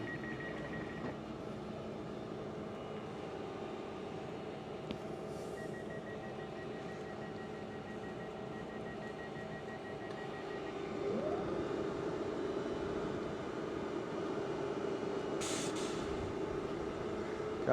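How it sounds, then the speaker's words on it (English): A train crossing a level crossing in South Yorkshire, a low steady rumble and hum that swells slightly in the second half, heard from nearby with a brief high tone partway through and no talk. "So we'll see this train out"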